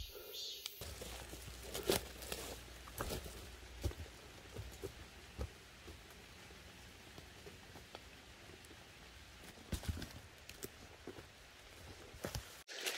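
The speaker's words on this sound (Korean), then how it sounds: "비가 서서히 내리고 있어요. 조금씩 내리고 있고" Light rain pattering on leaves and the ground in a forest, soft and steady with scattered close drips and occasional brushing or footstep-like knocks nearby.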